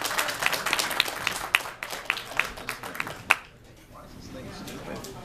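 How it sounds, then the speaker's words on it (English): An audience at a 2016 San Diego Comic Fest panel remembering Forrest J. Ackerman claps for about three seconds in steady, fairly rhythmic claps before trailing off into quiet room noise. "give it a round of applause"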